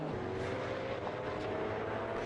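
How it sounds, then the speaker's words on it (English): The number one Ferrari GT race car rolls down the pit lane at Magny-Cours during an endurance race, a steady engine drone with a faint whine carrying over broad track noise, with no one talking. "the number one Ferrari bails out of seventh place and comes down the pit road now"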